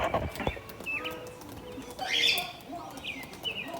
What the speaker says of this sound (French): C'est beau le son des oiseaux, hein?